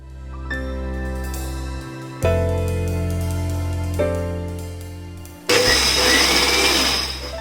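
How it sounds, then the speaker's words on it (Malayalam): A mixer grinder whirs as it grinds soaked rice into appam batter, a steady loud motor drone in three runs separated by short stops, with a rougher, louder grinding in the last burst. "അടുത്ത ബാച്ച് നമുക്ക് ഇതുപോലെ തന്നെ അരച്ചെടുക്കണം."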